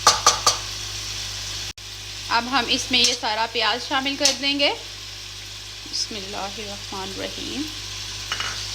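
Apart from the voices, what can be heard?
onions frying in oil in a kadhai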